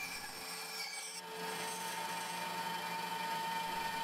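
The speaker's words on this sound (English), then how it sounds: "The finger grooves are smoothed out at the spindle sander" A spindle sander smooths the finger grooves of a plywood handle, giving a steady abrasive rubbing hiss over a constant motor whine that holds for about four seconds, close and fairly loud.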